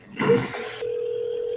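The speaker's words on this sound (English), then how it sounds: "pick up the phone and start dialing" A telephone dial tone plays steadily alone for about a second, following a brief patch of muffled voice and handset noise at the start.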